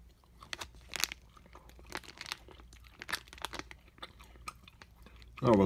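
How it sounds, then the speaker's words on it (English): Crunchy Wenzel's Farm bacon cheddar snacks are chewed close to the microphone in a mukbang, with repeated loud crunches and crinkling bursts for several seconds and a louder rustle at the end. "Oh, with a mukbang, you might as well have me chew"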